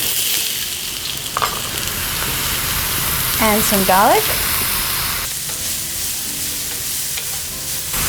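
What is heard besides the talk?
onions and chilies frying in hot wok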